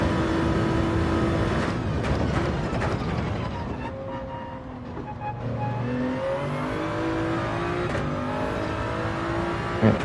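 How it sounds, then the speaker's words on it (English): A race car in Gran Turismo 7 revs its engine hard while the tires spin and the car drifts, producing a steady, loud, close engine drone that rises and falls in pitch. "I can't do anything when the car is just spinning the tires like that"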